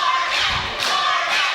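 A wrestling crowd roars and cheers in loud, dense surges, with sharp swells of shouting rising twice over the steady din.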